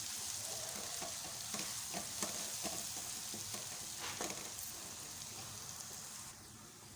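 Ginger and garlic sizzle steadily in a pan for kadhi pakoda, with a spoon scraping and stirring in repeated strokes close by; no talking.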